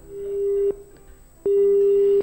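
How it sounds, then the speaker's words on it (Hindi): Over a phone line on a call-in program, a disconnected-call tone sounds as two steady beeps separated by a short gap, clear and loud with nothing else over them. "किसी वजह से फोन जो है वो कट गया है।"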